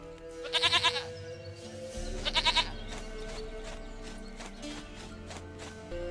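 A goat in The Witcher 3 video game bleats twice in quick wavering cries, close and loud over a steady game soundscape with hoof-like clopping.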